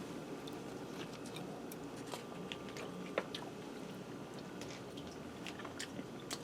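Crisp bites and steady chewing of a toasted-bun sloppy joe sandwich with creamy cheese, close and fairly quiet, with soft clicks over a low background hum and no talk.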